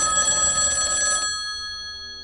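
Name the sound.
telephone ringing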